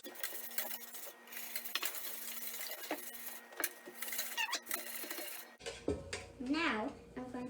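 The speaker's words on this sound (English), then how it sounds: "Golda, now can you whisk up our batter?" A whisk scraping and clinking briskly against a bowl as a child beats cupcake batter, close and busy with rapid metallic taps, then a brief shift to softer rustling and squeaky movement near the end.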